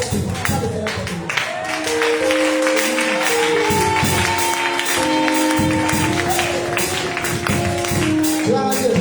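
A church congregation at a prayer and fasting service claps in steady rhythm over loud worship music and singing, the claps dense and continuous throughout.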